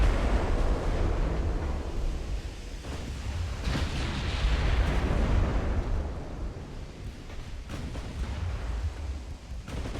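A 14-inch naval gun booms in the Ultimate Admiral: Dreadnoughts naval battle game, a deep sustained rumble of heavy artillery with low roaring blasts and a sea-like wash continuing throughout, with no voices.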